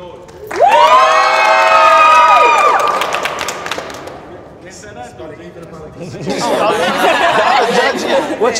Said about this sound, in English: If y'all think Supa Peach and Ricci Bitti won, make some noise